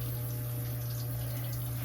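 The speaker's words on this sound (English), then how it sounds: "That sink water's been running for about 5 minutes because it takes really long in this house for the water to heat up" Water running steadily from a sink tap in a house bathroom, a constant even rush with a low hum underneath, moderately near and alone with no talking.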